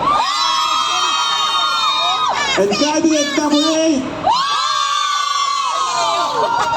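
A crowd of supporters at a school quiz competition screams and cheers in long high-pitched bursts, loud and sustained, with a brief gap where a host speaks over a microphone before the shouting swells again.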